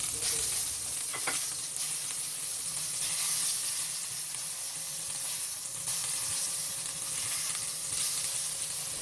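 Burger patties for South American-style burgers sizzle steadily and loudly in a pan just after being flipped, a continuous dense frying hiss with no voices.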